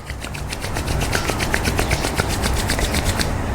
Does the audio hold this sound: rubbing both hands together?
yes